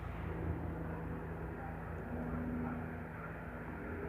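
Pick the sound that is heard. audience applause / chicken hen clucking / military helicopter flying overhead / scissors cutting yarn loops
military helicopter flying overhead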